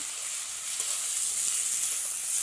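Carrots, green chilies and chopped tomato frying in a pan, giving a loud, continuous close sizzle with light stirring underneath.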